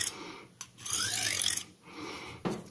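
A serrated knife of fairly soft steel is drawn through a Victorinox dual sharpener in close, raspy scraping strokes. Two longer passes are separated by brief pauses.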